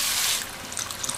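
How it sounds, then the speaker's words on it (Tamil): Water poured into a pot of sambar while cooking, a brief bright splashing rush at the start that settles into softer trickling and dribbling, heard alone at moderate loudness. "தண்ணி சேர்த்துடலாம்."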